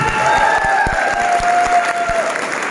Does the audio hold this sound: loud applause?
yes